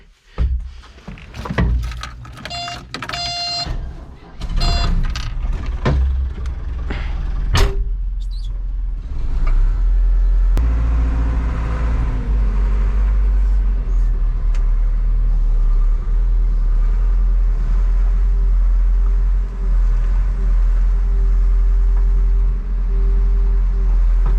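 A Mecalac 11 CXi excavator engine cranks and catches after several seconds of clicks and handling noises, then settles into a loud, steady, deep diesel rumble that continues without a break.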